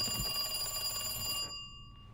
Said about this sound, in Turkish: Evet, telefon çalıyor.